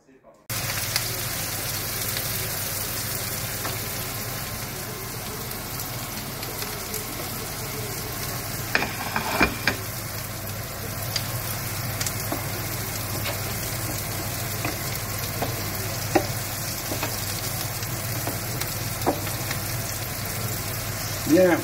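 Onions sweating over moderate heat in a paella pan give a steady, even sizzle that runs unbroken through the whole stretch, with a few soft clinks and stirring touches on top and no talking.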